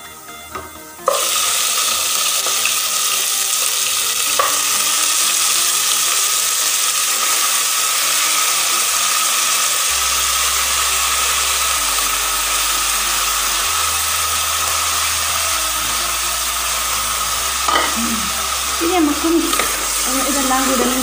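Beef added to onions already browned in a pan fries with a loud, continuous sizzle and hiss, a sharp clatter at the start, and faint stirring and scraping sounds later on.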